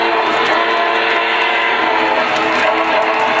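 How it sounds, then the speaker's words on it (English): Horn on a Lionel Legacy model locomotive, a steady sustained electronic horn tone held loud and continuous without break. "You can blow the horn."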